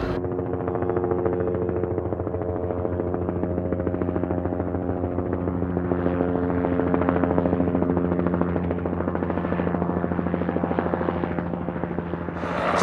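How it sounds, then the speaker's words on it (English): A Super Huey helicopter's rotor thumps steadily and loudly throughout at an air show, a continuous deep chopping drone as it passes near and low, with no voices. "Cliff brings the Super Huey in low and slow"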